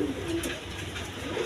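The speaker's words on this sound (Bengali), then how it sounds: "বন্ধুগণ এখানে এক পেয়ার কবুতর আছে, নটটা খরমোনা আর মাদিটা ব্লেজার" A pair of pigeons, a Khormona male and a Blazer female, coo in low, soft murmurs that run steadily through the brief stretch. The birds sound close, with no talk over them.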